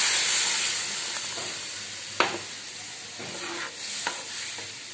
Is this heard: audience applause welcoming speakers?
no